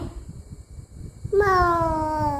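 A cat meows once loudly and up close in a drawn-out rising-then-falling cry, following a stretch of low murmuring voices in the room.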